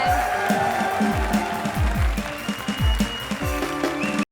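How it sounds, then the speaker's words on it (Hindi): Audience applause on a Hindi comedy show, a dense even clapping wash heard over backing music with a regular thumping beat, cutting off abruptly at the end. "जोरदार तालियां हमारी इस डिग्री के लिए"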